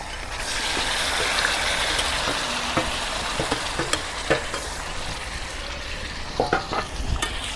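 Marinated beef fried and stirred in a pan for a beef curry, a steady loud sizzle throughout with scattered scraping and clacking stirring strokes, growing more frequent toward the end.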